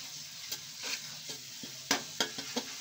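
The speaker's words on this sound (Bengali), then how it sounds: "সুন্দরভাবে আমি মিক্স করে নেব।" Katla fish curry being stirred and mixed in a pan, with a steady sizzle and a few sharp spoon scrapes against the metal, close and moderately quiet.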